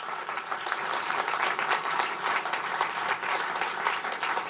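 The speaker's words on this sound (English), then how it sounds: "I want to thank the panelists and give them a round of applause." An audience applauds panelists at the end of a discussion panel on national data privacy law, with steady, dense clapping that holds at an even level for the whole stretch and no voices on top.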